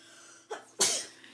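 A single person sneezes nearby: a short intake of breath, then a sharp, loud burst of sneeze that fades into a breathy tail, with the room quiet around it.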